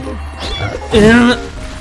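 A cat meows in the video game Eternal Return, one short, clear, rising meow that rings out loudly over a quiet game background.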